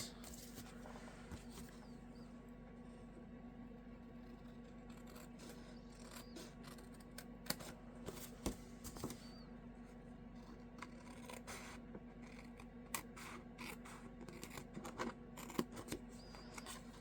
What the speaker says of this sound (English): Now we're going to have to fussy cut around it.